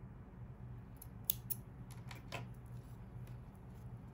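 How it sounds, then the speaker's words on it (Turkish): Scissors snip through crochet yarn while a crochet blouse is being made, giving a few quick, faint, close metallic cuts over a quiet room hum. "Kilitledikten sonra da ipimi kesiyorum."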